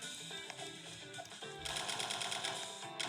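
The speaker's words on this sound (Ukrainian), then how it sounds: "Просто стріляють на самому переді." Video game gunfire rattles in rapid bursts, with a steady fast stream of shots taking over in the second half, loud and close, with no voices over it.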